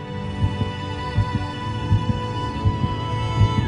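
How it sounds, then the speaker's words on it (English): A human heart beats in a steady, even rhythm, about five soft, low thumps spaced under a second apart, close and alone with a faint hum beneath and no talking. "to show your heart beating."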